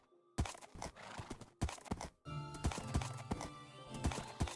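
Horses in Minecraft clop with irregular hoof thuds and make whinnying calls, close and fairly loud, with no talking.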